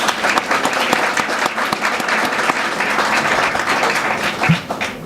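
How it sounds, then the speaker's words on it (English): An audience at a Florida Space Day closing ceremony claps in sustained, dense applause, loud and close with no voices rising above it. "And another round of applause, please."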